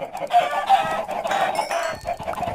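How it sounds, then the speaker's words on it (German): Chickens in the Minecraft video game cluck repeatedly in quick, overlapping bursts, loud and close, with no voices over them. "Und hier sind ganz viele Hühner, die haben hier eigentlich auch nichts zu suchen."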